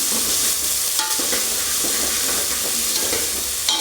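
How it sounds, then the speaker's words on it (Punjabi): Yogurt being stirred into Punjabi kadhi in a hot pan, a spoon scraping and swirling in rhythmic strokes over a steady, fairly loud sizzle, with no one talking. "ਤੇ ਇਹਨੂੰ ਵੀ ਆਪਾਂ ਚੰਗੀ ਤਰ੍ਹਾਂ ਇਹਦੇ ਵਿੱਚ ਜਿਹੜਾ ਮਿਕਸ ਕਰ ਲੈਣਾ ਦਹੀਂ ਨੂੰ"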